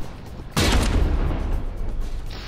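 A turret in the From the Depths naval combat game takes a hit, one sudden loud blast that booms and then trails off into a rumbling roar, with no talking.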